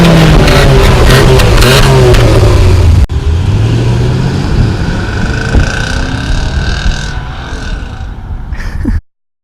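Motor vehicle traffic on a Los Angeles street, loud engines revving and passing close by, with a sharp cut partway through to steady traffic noise before it fades out.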